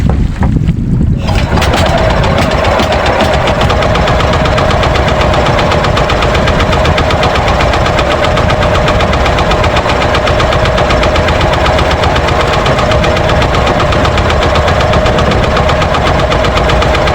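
Fishing boat engine running at sea, a loud, steady chugging drone with a constant tonal hum and wind buffeting the microphone throughout.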